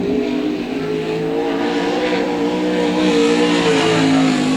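A Pro Sprint race car engine screams at high revs during a qualifying lap, loud and sustained, the pitch climbing steadily through the gear.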